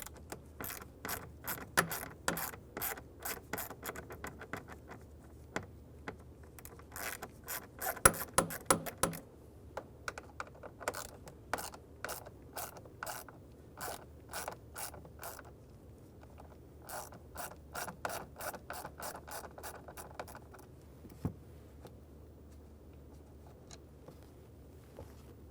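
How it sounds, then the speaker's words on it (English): Ratchet wrench loosening and removing two T20 Torx screws from a blend door actuator in a 2011-2019 Ford Explorer HVAC, rapid bursts of close clicking pawl ticks with brief pauses between runs. "there are two T20 Torx bits. I'm going to go ahead and loosen and remove those."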